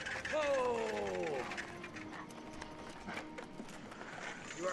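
Horse hooves clip-clop faintly on a rural road, a soft irregular clatter after a brief voice-like tonal call at the start, quiet and somewhat distant.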